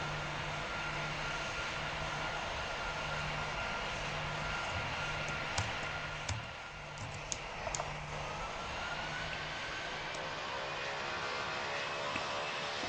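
A military airplane's engine drones steadily through a landing in a flight game, as an even, close, continuous roar with a low pulsing hum beneath and a few faint clicks scattered partway through.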